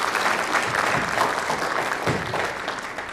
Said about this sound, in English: Can you give a round of applause to them,